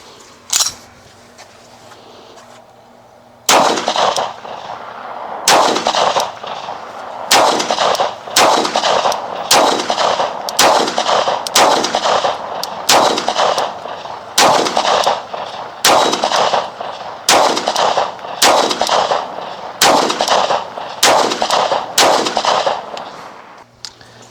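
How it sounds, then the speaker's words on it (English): An IWI pistol empties a full magazine at an outdoor Israeli range, about sixteen sharp, loud shots in a fairly even rapid rhythm, each ringing out briefly before the next, with a single earlier shot. "First time this IWI is shooting a magazine like it should be shot."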